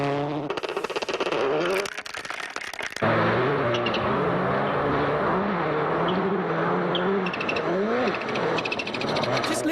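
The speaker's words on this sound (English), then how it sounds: "anti-lag chirping there, keeping his turbo spooled so he has the power right when he needs it" Rally car with an anti-lag turbo system at the Susquehannock Trail Performance Rally, chirping and popping over the engine drone as it works through tight, twisty forest roads. The engine is loud and near, with a brief lull early on.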